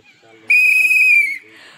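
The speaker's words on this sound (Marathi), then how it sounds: "परिक्रमावासी जर या डोंगरात हरवले तर कसे ओळखायचे म्हणून बाबांनी शिट्टी बांधलेली आहे" A pilgrim on the Narmada circuit in the hills blows a whistle once, a single loud, steady, shrill blast lasting about a second, close by and standing alone above faint background sound.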